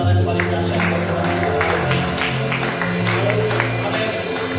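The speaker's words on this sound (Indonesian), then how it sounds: "Berikan tepuk tangan paling dahsyat buat Tuhan" A church congregation applauds during a Pentecost Sunday service at GBI Bukit Hermon in Makassar. Steady, dense clapping runs under sustained keyboard or organ chords throughout.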